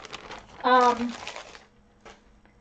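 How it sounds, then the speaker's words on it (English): A plastic bag crinkles and rustles in a short burst of handling, close to the microphone, while a person talks. "Now, I did find this plastic bag, but I think that's too heavy."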